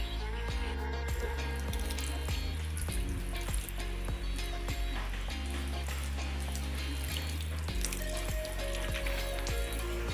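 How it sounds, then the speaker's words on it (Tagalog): Water from a weak hose spatters onto a dirty motorcycle engine before degreasing, making a continuous close, sizzling hiss broken by irregular low knocks and thumps. "bababadan muna natin siya ng tubig"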